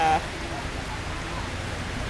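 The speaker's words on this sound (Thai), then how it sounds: "ฝนมันเริ่มแรง" Heavy rain pours down steadily in Thailand as a dense, even hiss that stays close and loud throughout, with a brief tone at the very start.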